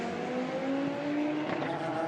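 Audi A4 STW touring race car from the 1990s running at the Hockenheimring, a steady loud engine drone with sustained high whine throughout, a brief burst of extra noise near the end.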